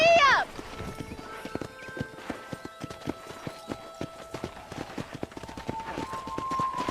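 Horse hooves clip-clop steadily at a walking pace in a Red Dead Redemption cattle-herding ride, with a short whinny at the start and a low hum of game music underneath.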